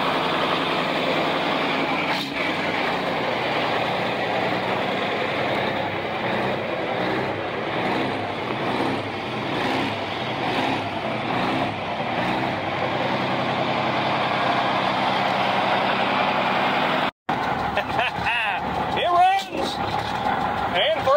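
A 1965 Mack B61 dump truck engine runs in a loud, steady, low diesel rumble, close by. Someone speaks over it, and near the end there is a brief gap followed by clanks and shifting noises.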